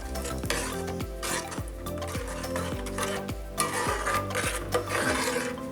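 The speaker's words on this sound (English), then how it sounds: "I'm just going to give that a mix" Spoon stirring tomatoes, spices and salt in a cooking pot for biryani, a steady rhythmic scraping and clinking with soft sizzling underneath, close and continuous with no talking.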